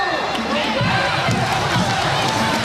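Arena crowd at a Hawaii Rainbow Wahine women's college volleyball match against UCSB chanting together in a steady, loud, dense roar of many voices, with rhythmic swells running throughout.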